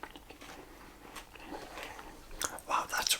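Close, crisp bites into a Lion chocolate bar, followed by crunchy, wet chewing at whisper-level volume, with soft whispering mixed in.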